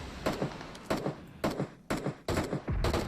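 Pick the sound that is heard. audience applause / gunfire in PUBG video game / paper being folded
gunfire in PUBG video game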